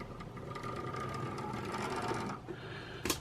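An old Wrenn model train locomotive motor, dusty and fresh out of storage, runs with a steady whirring mechanical buzz, up close, before winding down and ending with a brief clack.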